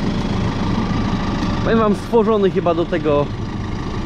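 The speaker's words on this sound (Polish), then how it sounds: "No co, ciągnik daje radę." A Fendt tractor engine drones steadily while it pulls an old cultivator across a field, a low, constant rumble under someone speaking Polish partway through.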